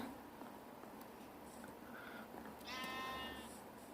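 A faint Minecraft sheep bleat rises briefly over a quiet background hiss, with a few soft ambient sounds around it.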